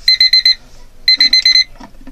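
A countdown timer's alarm rings in two bursts of rapid, shrill electronic beeps, about six pulses each, separated by a short pause, loud and close with no talking.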